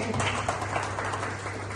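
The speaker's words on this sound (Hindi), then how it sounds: "बहुत बढ़िया, जोरदार तालियां हो जाएंगे।" Audience applause at a school session on protocol in Itarsi, a short burst of dense, steady clapping from a crowd heard at moderate loudness.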